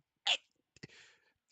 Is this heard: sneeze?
yes